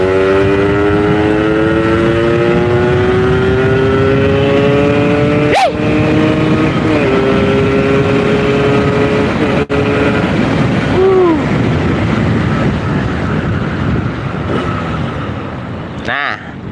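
Motorcycle, a Yamaha RX fitted with its stock factory exhaust, runs loud and close with rising harmonic engine tones through gear changes, a sharp pop near the middle and a brief dip before revving again.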